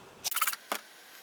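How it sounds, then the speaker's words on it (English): A soft mechanical click-whir, then one more brief click, close by against a quiet room hiss, as a camera shuts off. "I just heard the camera shut off"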